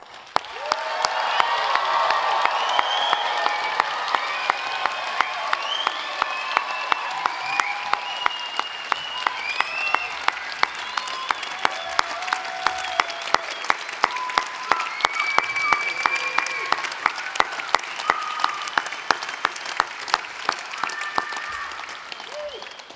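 A graduation ceremony audience at Unitec applauds and cheers the graduates, dense sustained clapping with scattered whoops filling the hall for over twenty seconds, loud and close.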